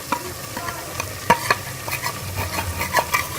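Spices, tomatoes and green chillies being fried and stirred into beef for daal gosht, a soft sizzle running beneath irregular spoon scrapes and taps against the pot.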